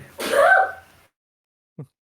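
A single loud, close sneeze bursts out during a live stream, trailing off over about a second, followed after a short silence by a tiny dry click or breath.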